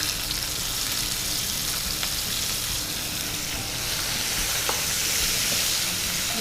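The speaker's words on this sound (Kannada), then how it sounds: "ಆನಿಯನ್ ಚಂದ ಫ್ರೈ ಆಗ್ತದೆ." Chopped onion fries in a pan on a home stove, giving a steady, loud sizzle and hiss that runs unbroken from start to finish with no talking.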